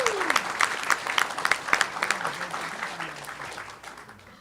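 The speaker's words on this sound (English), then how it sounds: "Give a round of applause to our elected official and candidates." Applause from the audience at a Texas Republican governor candidate forum, a dense burst of many hands clapping that holds steady and then slowly fades, with a voice talking over it.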